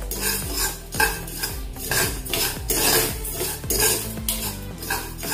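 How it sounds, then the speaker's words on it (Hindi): A spoon stirs semolina batter in a pan, scraping steadily against the metal in a continuous, rhythmic series of close, loud strokes with no voices. "ऐसे चम्मच से चलाते जाइए। चम्मच से चलाएंगे तो नीचे से जलेगा नहीं।"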